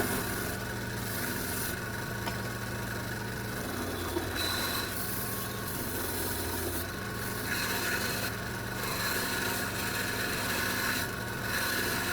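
Scotch-Brite pad scrubbing a corroded metal blade on a three-bladed vegetable chopper, a steady close abrasive rubbing and rasping that continues with a faint hum underneath.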